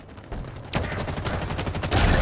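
Gunfire in Halo Infinite multiplayer: a faint shot opens, then a loud sustained burst of rapid automatic fire runs to the end, growing heavier near the finish.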